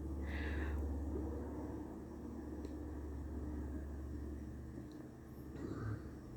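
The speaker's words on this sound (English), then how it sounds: "I am very sure that you guys can hear that airplane" A low, steady rumble of an airplane passing overhead, fairly loud and continuous throughout, with no one speaking.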